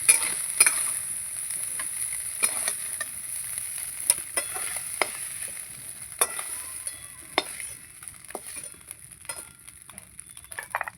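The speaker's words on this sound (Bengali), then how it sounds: "শুটকি মাছটা আমি একটু ভেজে নিয়েছি" Dried fish (shutki) fries in oil in a pan, a steady close sizzle with scattered crackles and light stirring clicks throughout, no voices.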